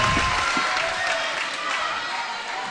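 Crowd noise at a basketball grand final between Ringwood and Hume City, a broad continuous roar of cheering and scattered clapping from the stands, steady and moderately loud across the stretch, with faint voices mixed in.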